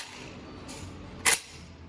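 A rifle bolt is worked on a range at the Mountain Clark Firing Range, its action stiff with shells loaded: a faint soft click, then one sharp metallic clack near the end, close and alone.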